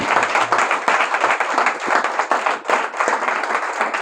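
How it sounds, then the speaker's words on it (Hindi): A church congregation claps loudly together in a dense, sustained roar of hand claps that lasts the whole time, with faint voices mixed in. "और सब प्रभु के महिमा की तालियां देंगे जोर से एक बार।"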